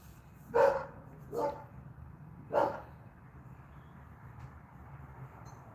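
A dog barks three times at a distance, with short gaps between, over a low steady background rumble.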